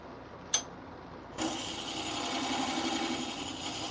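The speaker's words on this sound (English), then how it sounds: "I don't know if y'all can hear the air conditioner in the background or not." An air conditioner runs steadily in the background as a constant broadband hum that switches on partway through and continues evenly, with a brief click just before it.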